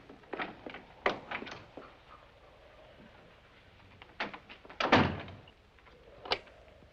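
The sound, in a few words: door closing in a film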